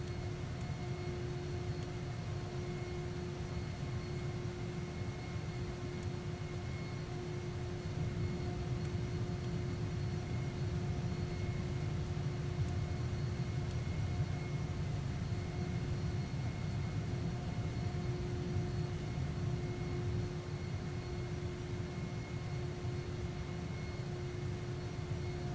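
A Piper M500 turboprop hums along in a flight simulator, a constant steady engine drone with a low rumble and a sustained tonal whine, unchanging and moderately quiet throughout the long stretch, with no talking.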